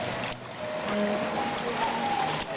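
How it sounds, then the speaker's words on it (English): Flowing water of the brook Jabbok in Jordan while a man washes in it, an even, continuous rushing and trickling close by. "Steve is washing in the brook Jabbok."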